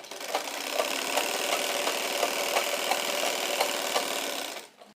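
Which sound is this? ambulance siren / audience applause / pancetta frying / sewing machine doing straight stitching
sewing machine doing straight stitching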